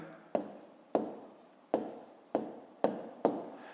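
Pen or chalk marks as numbers are written out for a long-division problem, heard as six short, regular taps and scratches about half a second apart, close and clear, with no talk.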